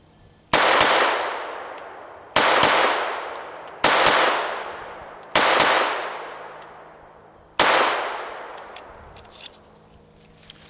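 Five sharp gunshots from an S&W M&P 22 Compact pistol firing Winchester ammunition, spaced one to two seconds apart, each a loud crack with a short ringing decay outdoors.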